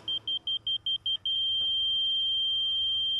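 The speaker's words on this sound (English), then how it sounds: "I'm gonna adjust the height until I hear an even tone" A Stabila rotating laser receiver on a grade rod gives a quick series of short, loud electronic beeps that settle into one steady, even tone, with a faint soft knock in the background.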